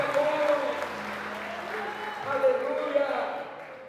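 A church congregation at a Christmas cantata claps in a steady, sustained round of applause that fills the room, with voices mixed in beneath it.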